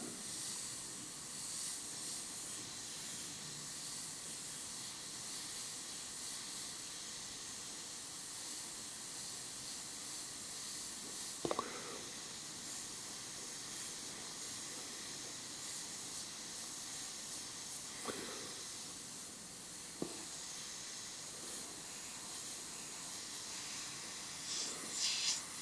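An airbrush sprays paint at low pressure in a long, quiet, continuous hiss with a few brief clicks and puffs as the trigger is worked, steady throughout with no talk.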